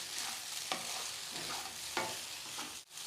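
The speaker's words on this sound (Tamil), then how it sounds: "இந்த மாதிரி சூடாக ஆவி பறக்க வர வரைக்கும் வதக்குனா போதும்" Poha upma sizzles and fries in a hot pan while being stirred, a steady close crackle with a few sharper scraping strokes of the spoon.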